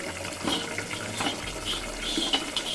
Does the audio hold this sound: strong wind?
no